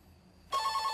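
A telephone starts ringing abruptly halfway through, a bright electronic ring that follows near-silence and is heard at home in an anime scene, loud and close with no talk over it.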